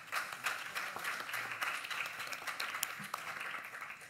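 Audience applause at a poetry recital and translation slam in Barcelona, with dense, steady clapping from a crowd throughout and no voices over it.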